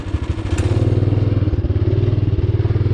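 A Rokon Trail-Breaker motorcycle running in snow, a loud close low engine throb with a steady rapid pulsing chug and some clatter.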